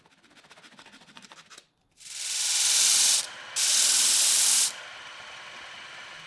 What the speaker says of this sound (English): I'll sand the edges of the top veneers so they're ready